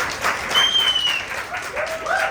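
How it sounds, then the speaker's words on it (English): A workshop audience applauds a returning speaker at an HCD UAE meetup, a dense burst of clapping with some cheering and voices mixed in. "Big round of applause."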